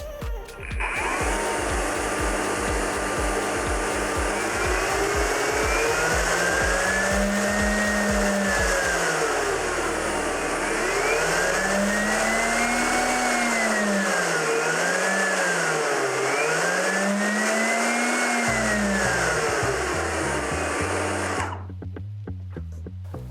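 A TTG SF8A512 cordless garden leaf blower runs steadily up close with a high whine, its motor pitch rising and falling as it is revved, then cuts off abruptly.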